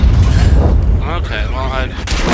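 A Lorraine 155-50 artillery gun fires in World of Tanks, a heavy low boom that carries on as rumbling battle noise for the whole moment, with a voice talking over it.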